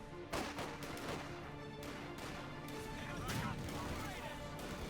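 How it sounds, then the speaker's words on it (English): MP40 submachine guns fire in Company of Heroes 2, with rapid sharp cracks and bursts near and far over a dense battle rumble, under a commentator's voice. "There's our first round of MP40s. Very deadly, this range as well."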